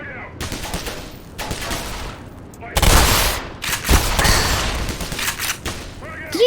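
Shotgun blasts and a frag grenade explosion go off in Black Mesa, a quick run of loud, sharp shots followed by a heavy boom, while a voice talks over the gunfire.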